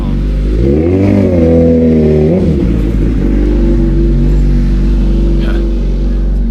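A motorbike engine revs and passes close by outdoors in cold weather, a loud rising and falling rumble that settles into a steady drone.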